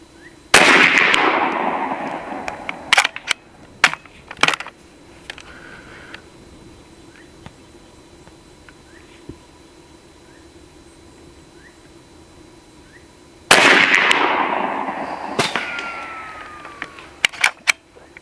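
B&W Bin Tac M50 PCP air rifle fired at an outdoor range, two sharp loud cracks about twelve seconds apart, each followed by a short ringing decay and a few fainter clicks and knocks in between.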